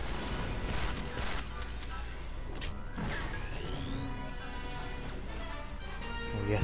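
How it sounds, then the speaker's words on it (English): Star Wars Republic Commando concussion rifle blasts thump and crack among scattered gunfire, a rising whoosh sweeping through the middle of a fairly quiet, busy firefight. "They've got concussion rifles."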